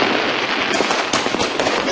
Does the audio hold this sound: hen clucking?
no